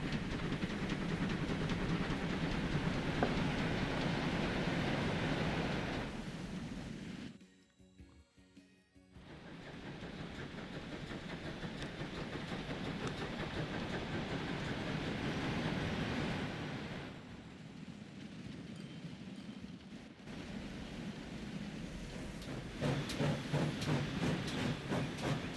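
GWR 0-6-0 steam locomotives in the video game Transport Fever 2 run with steady rumbling hiss and rhythmic knocking. Two brief near-silent gaps interrupt the sound, and a louder, pulsing chuff builds near the end.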